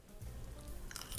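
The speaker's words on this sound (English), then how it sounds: "You hear the crunch from the cornflakes?" A bite into a baked breakfast casserole with a crisp, buttery cornflake topping gives close, quiet crunching and chewing that ends in a brighter crisp crackle, with no talking.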